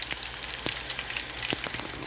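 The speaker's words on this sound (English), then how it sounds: "it's getting back to frying deeply" Onion rings deep-fry in hot oil in a pot, giving a close, dense sizzle and bubbling with sharp pops and crackles scattered throughout.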